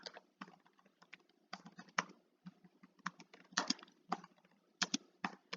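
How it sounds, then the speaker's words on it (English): Fast typing on a computer keyboard, quick irregular bursts of close, crisp key clicks with short pauses between runs, fairly quiet and with no talking. "I'm trying to type too fast"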